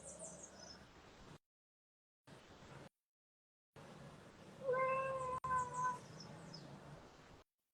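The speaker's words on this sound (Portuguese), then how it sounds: "Tem um gatinho aí?" A house cat meows several times close to the microphone during an online call. The short, tonal meows rise over a low background hiss that drops out repeatedly.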